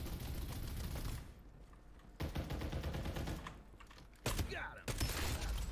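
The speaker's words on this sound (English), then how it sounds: "Alright, we'll try our shotgun." Shotgun fire in the battle royale game Farlight 84 comes as repeated loud, booming blasts with sharp onsets separated by short gaps, over a constant rumble of game noise.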